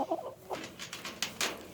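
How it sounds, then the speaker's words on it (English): Backyard chickens cluck in a handful of short, quiet bursts spaced irregularly over a moment, close by with no talking. "Okay, chickens. You want this?"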